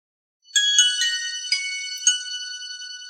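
Nokia X1 basic mobile phone playing its power-on startup tune, a bright, clear electronic chime with several rising ringing notes that sustain for about two and a half seconds, heard alone and close.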